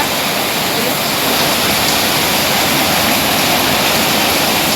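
Heavy monsoon rain pours down in Tulu Nadu, a loud, unbroken roar of water close by, steady and wash-like from start to finish.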